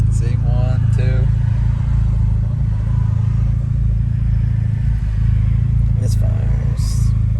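Chevrolet HHR SS engine with a cylinder misfire code, idling in a low, steady rumble throughout, with people talking over it and a few brief clicks and clatters.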